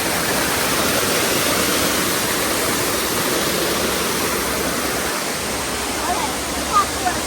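Loud, steady roar of rushing water from a waterfall at Dunn's River in Jamaica, a broad continuous wash filling the whole clip with no pauses.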